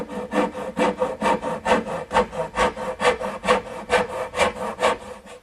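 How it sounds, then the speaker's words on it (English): A small dovetail saw cuts angled kerfs into a wooden spinner with steady, even back-and-forth strokes, about three per second, close and rasping throughout without any talk. "making the angled cuts with my little dovetailing saw"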